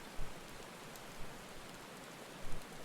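Heavy rain pours at a castle in Final Fantasy XIV, a thick continuous wash of drops with a few slightly louder spatters rising from the steady downpour.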